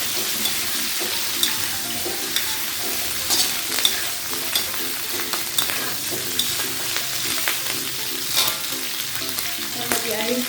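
Chicken feet are stirred and fried in a pan, a continuous close sizzle broken by repeated scraping stir strokes and small clinks at an even, unhurried pace.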